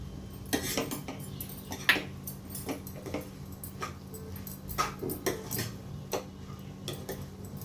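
Okra with amchur masala and salt is stirred in a pan, with irregular metallic scrapes and clinks of a spoon over a low hum, near and moderately loud.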